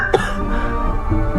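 A single sharp cough near the start, followed by low murmuring sounds, close and fairly loud.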